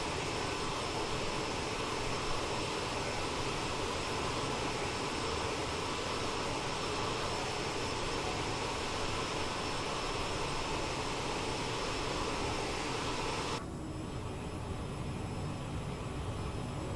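An Aerosoft CRJ jet airliner cruises in Microsoft Flight Simulator on a Philadelphia to Portland flight, its engines a steady, broad roar. Near the end the roar abruptly thins and quiets, with no voices.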